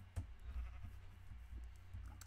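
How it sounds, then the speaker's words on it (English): Sheep in the Minecraft video game bleating faintly several times in short bursts over a low background hum, quiet and distant, with no voices. "I freaked out because I saw a sheep."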